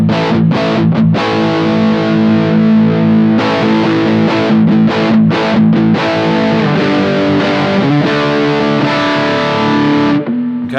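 Distorted electric guitar with an EQ pedal switched off, played as loud, saturated riffs and sustained chords with choppy breaks and a short decay at the end, close and alone.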